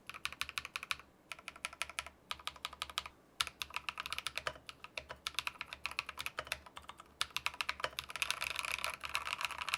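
Steady, rapid typing on a gasket-mounted mechanical keyboard fitted with lubed KTT Sea Salt Lemon switches, close and clear, even muted clacks in fast bursts with brief pauses between runs and no voices.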